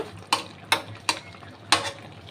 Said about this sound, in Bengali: এখন আমি মাছটা দিয়ে দিব